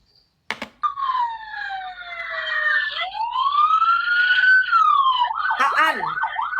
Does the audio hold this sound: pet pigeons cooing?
no